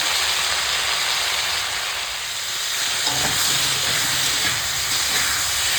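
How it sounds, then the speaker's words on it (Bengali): Chopped vegetables and salt hit a hot pan with a panch phoron tempering. A loud, continuous sizzle and steamy hiss fill the whole stretch, with a brief stir near the middle and no talk. "এখন দিয়ে দেবো এই যে কেটে রাখা সবজি দেবো লবণ"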